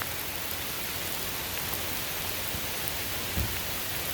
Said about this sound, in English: The rain prevents a lot of things from happening